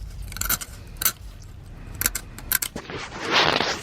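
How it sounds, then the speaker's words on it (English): Metal pick scraping rust from the flange around a 10mm transmission pan bolt: a series of short, close, gritty metallic scratches and clicks in irregular bursts, ending in a longer rasping scrape. "I'm using a pick here to break the rust away from the contact surface"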